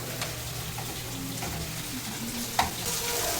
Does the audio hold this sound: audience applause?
no